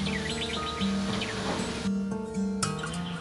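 An orange-headed thrush (anis merah) sings a run of bright, repeated chirps and whistled phrases, close and fairly loud over a dense background of other bird calls.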